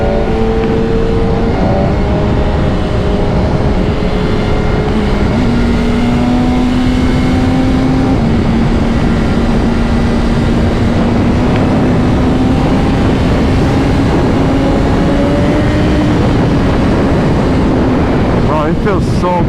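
A 2025 BMW S1000RR sportbike with its stock exhaust hums steadily through a ride in Miami, its engine tone drifting slowly upward, close and loud under constant wind rush.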